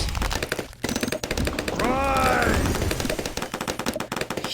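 Rapid automatic gunfire from the Dartling Gunner tower in the video game Bloons TD Battles 2, dense repeated shots with game effects and a short warbling tone in the middle, a voice talking over the action.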